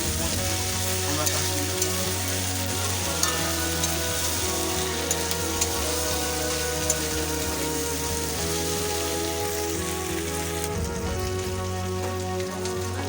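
Potatoes sizzle and crackle in hot oil with spices while being stirred in the pan, a steady close frying hiss with faint scraping.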